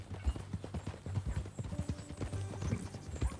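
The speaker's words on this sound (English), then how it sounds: "That a new horse?" Horse hooves clip-clop in Red Dead Redemption 2, a steady, close rhythm of hoofbeats with a few faint tonal snorts mixed in.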